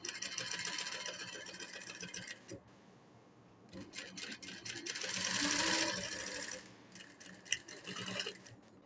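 A tailoring sewing machine stitching slowly, with bursts of rapid mechanical clatter separated by pauses, one longer run in the middle, close and fairly clear.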